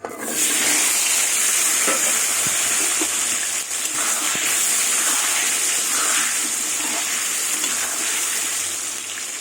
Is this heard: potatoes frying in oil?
yes